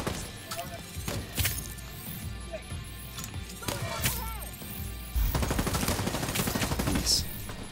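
Repeated bursts of automatic and single-shot gunfire from a squad firefight in Tom Clancy's The Division, sharp cracks rising into sustained rapid fire near the end, with voices talking over the action.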